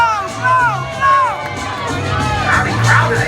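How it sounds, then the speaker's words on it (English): A rowdy crowd cheers and whoops at a live onstage show, loud and close, with excited shouts and voices swelling in bursts over steady crowd noise. "Rowdy crowd, they love it."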